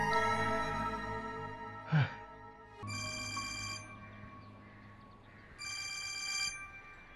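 A telephone rings in two repeated bursts indoors during a household scene in a Hindi drama, with a short thud before the rings and a steady harmonic tone underneath.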